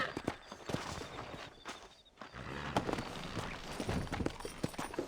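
Horse hooves clip-clop along at a steady walking pace in Red Dead Redemption, moderately close, with scattered clatter and background game ambience around them.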